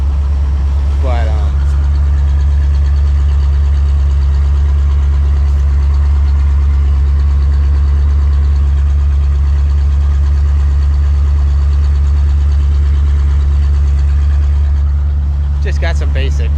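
A 1982 Chevrolet Corvette with basic Dyno Max mufflers idles after a cold start, a loud, steady low rumble throughout, with faint handling noises at the start and end.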